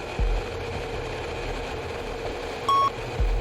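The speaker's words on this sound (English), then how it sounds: "That beep means the bomb's dropped." In an aircraft cockpit, a single short electronic beep marks the bomb release, sounding clearly once over a steady drone of engine and cockpit noise.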